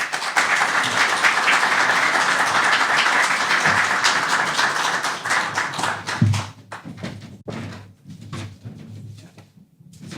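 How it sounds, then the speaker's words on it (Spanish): Audience applause welcoming a speaker at a theology book presentation, a full crowd clapping steadily for about six seconds before thinning into scattered claps and a few knocks as it dies away. "Con ustedes, entonces, dejo a Isaac Lara, a quien lo recibimos con un cariñoso aplauso."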